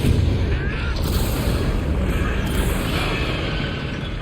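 A Confringo blasting curse explodes in Hogwarts Legacy, a dense, loud roar of blast and rumble sustained throughout, with game music and effects layered in.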